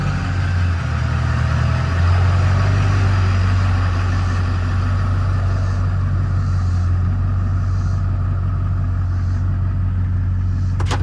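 A Chevrolet Silverado Duramax diesel truck idles steadily in a shop with a deep, continuous rumble, loud and close. The sound stays even throughout with a faint rhythmic clatter on top.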